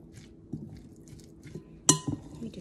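A utensil clinks and scrapes against a bowl while leftover curry chicken salad is stirred, with soft close taps and one brighter ringing clink near the end.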